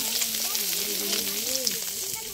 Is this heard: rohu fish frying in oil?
yes